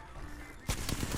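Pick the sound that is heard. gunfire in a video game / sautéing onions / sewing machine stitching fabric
gunfire in a video game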